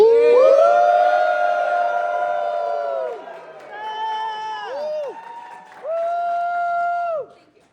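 A convention audience at a Hasbro Pulse Transformers panel at MegaCon Orlando lets out loud, sustained whooping cheers in several swelling bursts, the voices rising and falling together before dying away.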